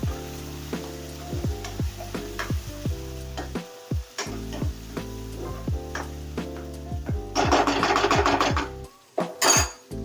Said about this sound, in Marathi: ते पण आपल्याला छान तेल सुटतोपर्यंत भाजून घ्यायची आहे